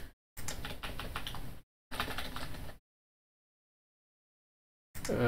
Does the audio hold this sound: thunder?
no